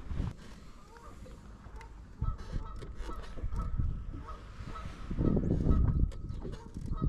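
A goose honks repeatedly on the water during a fishing outing, its calls fairly close and loud and mixed with boat and outdoor noise.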